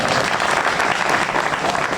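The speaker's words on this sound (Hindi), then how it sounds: "हमें भी तालियों की गड़गड़ाहट अच्छी लगती है" Dense, steady audience applause fills a poetry gathering at an all-India kavi sammelan held at a fair, loud and continuous throughout with no voices on top.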